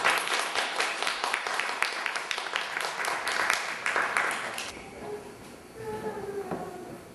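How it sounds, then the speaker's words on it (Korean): Audience applause at a Chicago church service welcoming a speaker, dense rapid clapping from a crowd that holds steady, then thins out and fades into quieter room sound. "박수로 모시겠습니다."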